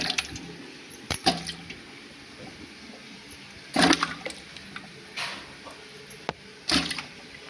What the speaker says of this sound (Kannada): ಈ ಬಾಳೆಕಾಯಿಗಳನ್ನು ನೀರಿನಲ್ಲಿ ಹಾಕಿ